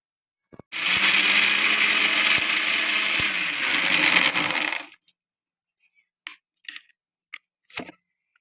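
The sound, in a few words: blender grinding tomato paste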